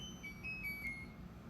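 A ZAFRO smart tower fan gives short, faint electronic beeps as it is switched on or off. The tones are thin and high, over a low, steady hum.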